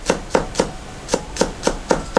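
Kitchen knife slicing through chicken breast on a cutting board, eight crisp, evenly spaced cuts about a quarter-second apart, close and clear with no talk.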